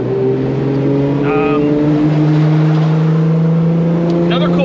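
A BMW E30 fitted with a Toyota 2JZ engine and a DCT gearbox pulls steadily under acceleration, its engine tone rising slowly as a loud, continuous drone heard from inside the car.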